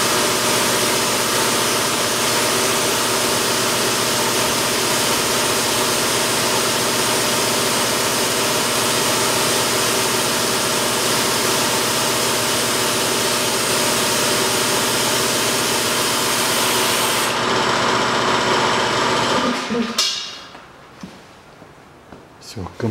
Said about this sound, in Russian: Все, компрессор пока отключил.